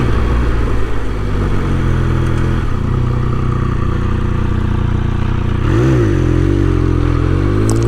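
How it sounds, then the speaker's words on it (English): Exhaust of a 2021 Triumph Speed Triple RS motorcycle pulling away, a loud, close engine drone that holds steady and then rises and swoops in pitch as it revs up, with no talk. "It's got a nice sound to it out of the exhaust when you're taking off."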